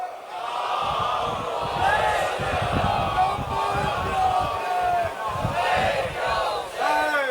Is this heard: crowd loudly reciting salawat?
yes